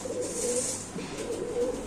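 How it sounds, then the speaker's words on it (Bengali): Pigeons at a large pigeon farm coo in a low, steady murmur, a couple of drawn-out calls close by with no one talking. "এগুলা কবুতরে কথা বলে"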